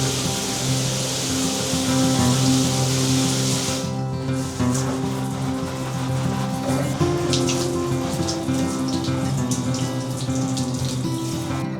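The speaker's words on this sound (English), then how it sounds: "so time for another little rinse" Running tap water splashes steadily over houseplant leaves during an indoor rinse, loud and close, with a hum under it and the splashing roughening as the stream shifts about four seconds in.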